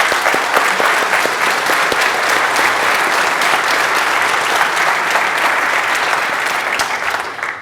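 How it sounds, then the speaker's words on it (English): A conference audience claps for the Hex team working on Elixir, a full, sustained roar of applause from a large hall that stays loud and even throughout and only starts to fade in the final moment. "So I actually want everyone to clap and appreciate the work"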